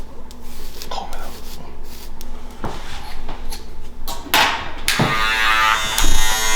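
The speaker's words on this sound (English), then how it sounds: "You take the clipper now, right?" An electric hair clipper buzzes during a self-cut, shaping up around the ear and tapering the back, its steady hum close and continuous with brief rubbing and handling noises.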